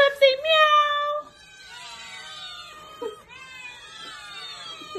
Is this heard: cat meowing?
yes